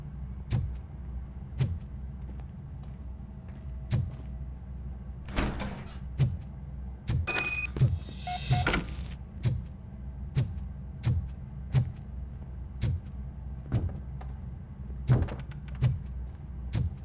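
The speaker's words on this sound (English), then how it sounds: "Now let me get that door open for you." A mechanical door in RoboCop: Rogue City slides open with a grinding, whirring rush amid a series of regular dull thumps and clicks in a quiet, humming space.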